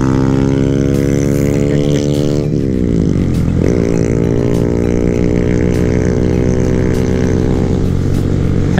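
A Honda Grom and a Kawasaki Z125 rev hard off the start, small engines climbing in pitch, dropping with a shift, then winding up again, loud and close throughout.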